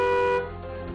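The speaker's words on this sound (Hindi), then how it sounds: "वो हॉर्न बजाकर किसी मुलाजिम को बुला रहा था" A car horn blares in one loud, steady blast in a village courtyard outside a large mansion, then cuts to a lower, fainter tone.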